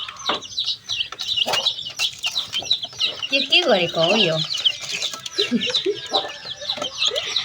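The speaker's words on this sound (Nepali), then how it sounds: "अब कुखुरै सानो हो ल पानी पनि खा" Several chickens cluck and chirp close by in a busy, continuous chatter while a person speaks briefly among them.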